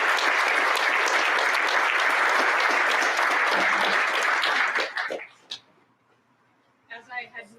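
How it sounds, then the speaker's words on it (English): Audience applause for award winners at a school athletic awards program, loud and sustained for about five seconds before fading, followed by brief talk. "give one more round of applause to all of our award winners tonight"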